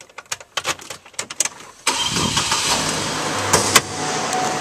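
Several clicks and a short crank, then a 2009 Hummer H3T 4WD engine turns over and settles into a steady, loud idle nearby, with a couple of revs.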